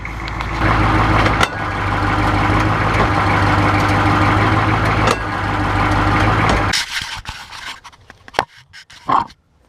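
An M1009 truck engine idles loud and close in a steady rumble, then cuts away to quieter scattered knocks and clunks as the vehicle is put in drive or reverse with the brake held.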